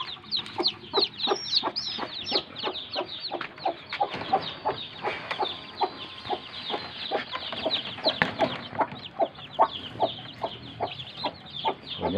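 A hen clucks steadily in a quick, repeated rhythm while feeding her chicks, close and clear with no talking.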